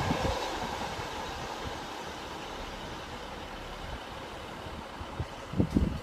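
Passenger train running through platform 2 at Grantham station, a steady rolling rumble of wheels and carriages throughout with a few louder clacks near the end.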